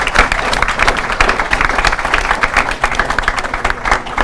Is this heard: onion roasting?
no